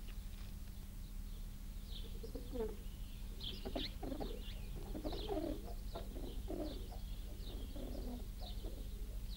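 Pigeons coo repeatedly in soft, rolling phrases throughout, with a steady low hum underneath and no talk.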